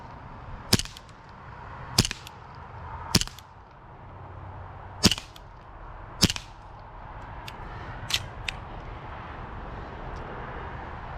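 A John Wayne 1911A1 WWII distressed-model CO2 BB pistol fires about seven sharp cracks, irregularly spaced and fairly close, over a low steady background hum.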